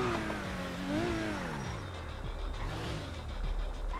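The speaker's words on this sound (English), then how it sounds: "Oh, there's a car back here." A video game car engine hums and revs with sliding pitch, a steady mechanical drone at moderate volume, with no voices.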